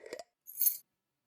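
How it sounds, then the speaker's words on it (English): Keys picked up, a short muffled rustle followed by a bright metallic jingle lasting about a third of a second, then silence. "picked up keys"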